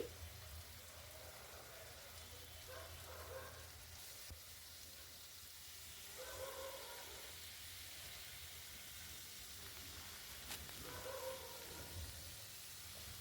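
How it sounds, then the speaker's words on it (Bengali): Carrots, beans and peas frying in a pan for homemade fried rice, a soft steady sizzle with faint bursts of crackling, quiet and close. "এবার গাজর বিনস মটরশুঁটিটা ভাজা হতে দিয়েছি"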